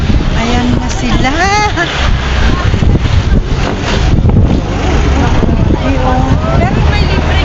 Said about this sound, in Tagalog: Grabing hangin.